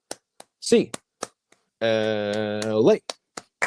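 Eight sharp, isolated claps ring out in a steady count for UCLA Bruins fans, evenly spaced and close, with someone shouting a word in the middle of the sequence.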